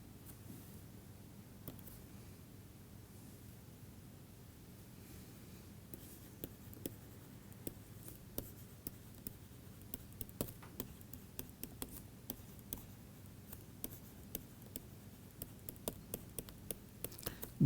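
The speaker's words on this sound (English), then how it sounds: "So, let me write that somewhere." Hand writing during a lecture, a faint steady scratch with light ticking taps growing more frequent toward the end, over quiet room hum and no talk.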